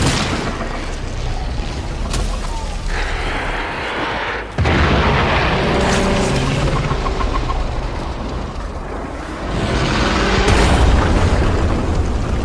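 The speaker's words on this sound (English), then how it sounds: "There should be useful detritus falling from the explosion." Explosions in the video game Warframe boom heavily over a dense game soundscape, with a sharp blast midway and another surge near the end, loud and sustained.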